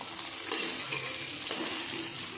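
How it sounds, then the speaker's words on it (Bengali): Onion and cumin fry in a pan with a continuous hiss, and a few soft stirring scrapes rise above it. "এটা ভালো হয়ে গেলে একটু পেঁয়াজ একসঙ্গে একটু ভালো ভাজা ভাজা হবে।"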